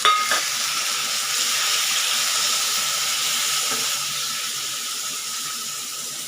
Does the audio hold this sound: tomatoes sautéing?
yes